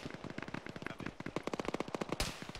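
Rapid bursts of automatic gunfire in a military video game, a dense run of sharp cracks in quick succession, one louder blast near the end, with no speech.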